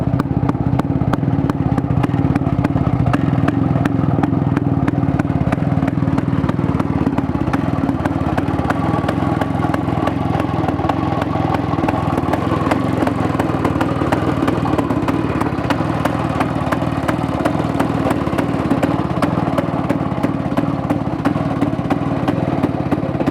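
Motorcycle engine idling steadily and loud for the whole stretch, a continuous even putter with a light mechanical clatter and no talk over it.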